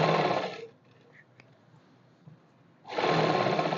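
A sewing machine stitches straight pants in two loud, close runs of rapid whirring, separated by a quiet pause of about two seconds.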